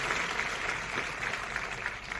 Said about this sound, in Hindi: फिर से एक बार जोरदार तालियां उनके लिए